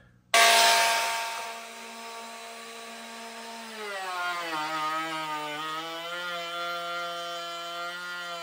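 Bosch cordless router with a large bit cutting about 3/8 inch deep into wood, a sudden loud start into a high steady whine that dips and bogs in pitch under load, then holds close and strong.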